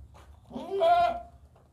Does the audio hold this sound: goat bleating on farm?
yes